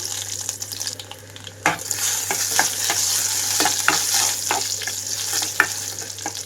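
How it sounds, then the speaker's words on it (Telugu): Chopped garlic sizzles steadily in hot oil during the tempering for a fenugreek-leaf dal, with a spoon stirring and scraping the pan in regular strokes, close and fairly loud, with no talk. "వెల్లుల్లిని చిన్న ముక్కలుగా చేసి వేస్తున్నాను."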